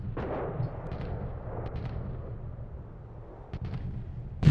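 Artillery fire in Call of Duty United Offensive during a control point battle, with muffled booms and distant explosions thudding over a low rumbling backdrop, ending in one loud close blast.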